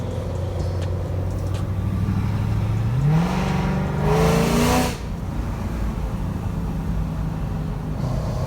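A 700-horsepower car on Hollywood Hills canyon roads drones steadily, then its engine revs up sharply and roars loudly for a couple of seconds before easing back to a cruising hum.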